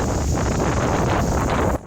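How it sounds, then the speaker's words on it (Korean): Strong wind roars into the microphone on a road-bike trip through Japan between Obanazawa and Shinjo. The buffeting rush is loud and continuous and drops off abruptly at the very end. "바람이 점점 거세게 불어닥쳤습니다."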